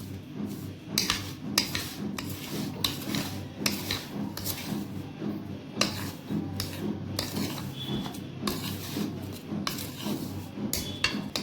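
Dry flour, sugar and baking powder for basbousa are stirred in a bowl, giving rhythmic scraping and rubbing strokes that repeat steadily at close range with no talk.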